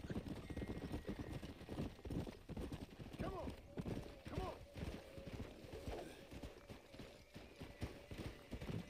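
A horse in Red Dead Redemption: Undead Nightmare gallops with rapid, continuous hoofbeats and gives a few neighs, while a voice speaks over the action.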